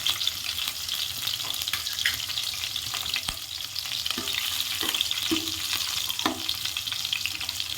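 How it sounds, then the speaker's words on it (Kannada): Green chillies and curry leaves crackle and spit in oil that was heated first, a close, continuous frying hiss with scattered sharp pops and occasional stirring knocks. "ಇದು ಡ್ರೈ ಮಾಡಿದ್ದ ಆಯಿಲ್ ಹಾಕ್ಕೊತಿದ್ದೀವಿ ಸೊ ಫಸ್ಟ್ ಇಲ್ಲಿ ಮೆಣಸಿನ್ಕಾಯಿ ಹಾಕ್ತಾ ಇದ್ದ ನೋಡಿ ನೆಕ್ಸ್ಟ್ ಕರ್ಬೇವಿನ ಸೊಪ್ಪು"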